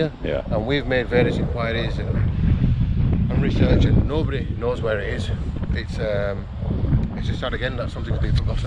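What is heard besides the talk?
wind blowing on microphone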